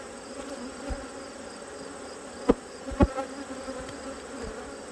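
Honeybees swarm-busy in an open autumn hive packed with brood give off a dense, steady buzz close by, broken by a couple of sharp knocks or bumps partway through.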